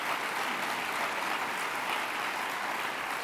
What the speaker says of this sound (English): How about another round of applause for Colonel Oliver North?